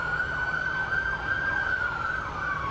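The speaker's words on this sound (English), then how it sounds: "Ooh, sirens. I think they're the good kind." A wailing emergency siren at a 4th of July parade, loud and continuous, its pitch sweeping up and down in a repeating pattern over traffic rumble.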